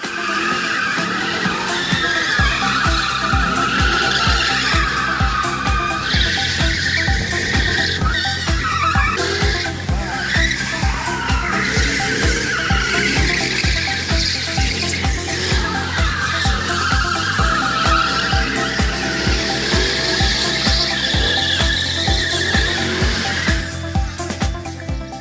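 A Ford Mustang drift car skids continuously at a fiftieth-anniversary Ford Mustang festival, tires squealing loudly over a roaring engine with rapid rhythmic revving pulses, close and sustained throughout.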